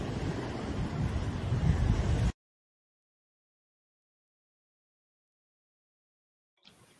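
Ocean waves and wind on a boat off Virginia Beach: a loud rushing wash of surf and wind noise for about two seconds, then sudden silence.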